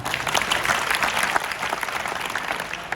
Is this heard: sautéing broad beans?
no